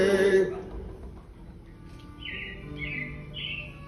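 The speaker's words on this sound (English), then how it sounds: "it looks like the Robins are getting ready to celebrate Valentine's Day today" Animatronic robins chirp in repeated bright bursts during a theme-park show at the Magic Kingdom, the high twittering calls coming in three short clusters after a brief stretch of music and ride noise.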